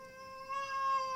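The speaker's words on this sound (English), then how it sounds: "Can you hear my cat?" A house cat meows in one sustained, tonal, fairly loud cry with steady harmonics, swelling slightly louder midway and heard alone without talk.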